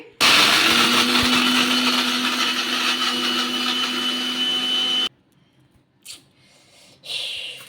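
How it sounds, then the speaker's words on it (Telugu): A mixer grinder whirs loudly at high speed for about five seconds, grinding Parle-G biscuits to powder, then stops, followed by a few faint clicks and rattles. "మిక్సీ జార్లోకి వేసేసుకొని మెత్తగా చేసేసుకోవాలి"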